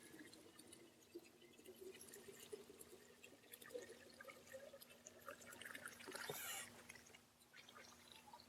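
Water runs from a hose into the clean-water tank of a Durrmaid Super 1600 hot water extractor carpet cleaner, a faint steady pouring and trickling with a brief louder splash near the end.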